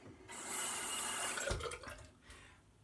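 Running water from a tap splashing into a sink during a rinse after a wet shave, a steady close wash for about a second before breaking into scattered drips and splashes.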